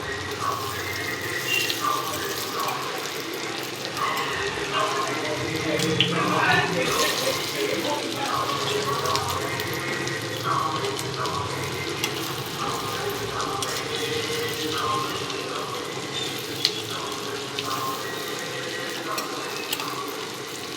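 Cauliflower kofta balls sizzle and crackle steadily in oil in a pan over a medium flame, a continuous close frying hiss with occasional stirring and faint background voices.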